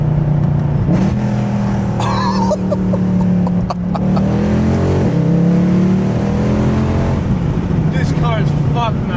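A Mercedes W204 C63 fitted with a Valvetronic Designs full valved exhaust accelerates hard, its loud, close engine roar climbing in pitch through the gears, with people talking inside the car over it.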